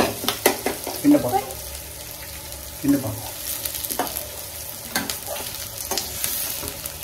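Green chili and onion frying in a pan while being stirred, a steady sizzle broken by several loud utensil scrapes and knocks against the pan at close range.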